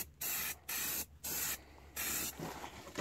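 Spray paint hissing from an aerosol can onto car wheels in four short bursts with brief pauses between, fairly close, followed by a fainter, longer hiss.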